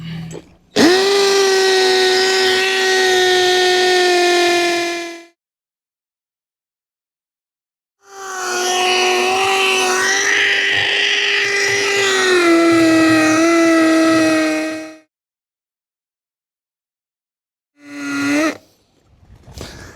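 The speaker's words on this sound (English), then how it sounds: "Hammer drill." Hammer drill with a masonry bit boring into brick: three sustained, loud, droning runs separated by pauses, the last one short, each with a steady motor whine.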